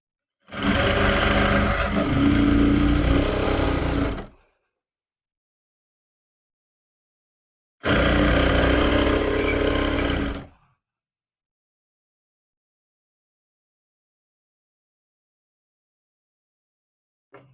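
A sewing machine stitches salwar fabric in two steady runs of about four and three seconds, loud and close, separated by silence, with no talking.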